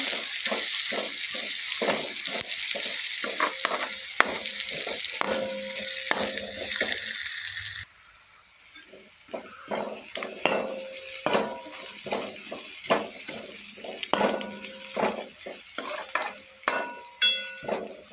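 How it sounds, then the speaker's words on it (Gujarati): Onions fry in a pan while a spoon scrapes and stirs them, bringing a steady sizzle with repeated close clacks and scrapes, a brief quieter stretch midway, and no talking. "આપણે ડુંગળી શેકાઈ રહી છે"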